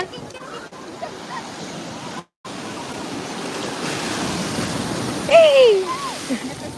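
Sea waves wash onto the beach at Tiruchendur as a steady broad rush of surf, with a short break partway through and a brief high voice or shout near the end over the water noise.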